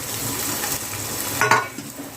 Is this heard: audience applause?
no